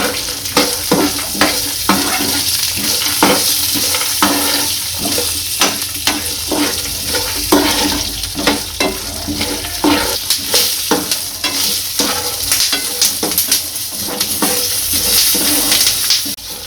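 Potato mix with black salt and cumin heated and stirred in a pan, steady sizzling frying with repeated scraping strokes of a spoon against the pan throughout, close and continuous.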